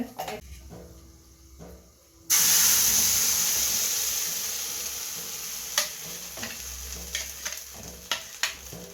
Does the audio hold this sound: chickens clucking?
no